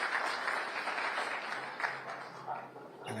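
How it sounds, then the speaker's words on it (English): Audience applause in the hall during a women's pool final at the Seyberts St. Louis tournament, a steady wash of clapping near the table that fades slightly toward the end, with a faint voice underneath. "And a great round of applause, Eric."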